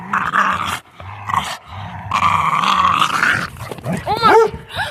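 Dogs fighting, with deep rumbling growls and snarls coming in bursts close by, broken by short gaps and ending in a few high yips and whimpers.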